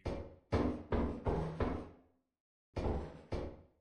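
Locked door being tried in the video game Lethal Company: a run of loud, close rattling thuds in two bursts, four then two, separated by a short silence.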